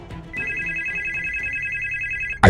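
A telephone bell rings in one long, clear, continuous burst, close and fairly loud, cutting off abruptly at the end.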